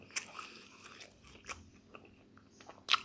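Pieces of crispy fried pork are bitten and chewed close to the mic. Sharp crunches come at the start and the end, with quieter chewing between them, and there is no talking.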